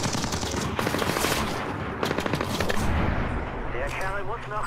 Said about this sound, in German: Schüsse, da drüben.